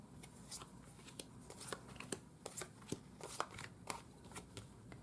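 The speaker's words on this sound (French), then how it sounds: "je vais faire le tirage en croix avec 5 cartes" Tarot cards are drawn and set down one by one in a five-card cross spread, giving soft, irregular papery snaps and slides against a quiet background, with no talking.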